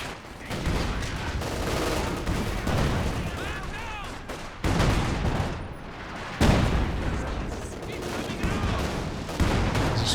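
Gunfire in Company of Heroes 2 during a battle with infantry firing at a building, heard as dense, continuous volleys of rifle and machine-gun shots with heavy impacts, loud throughout.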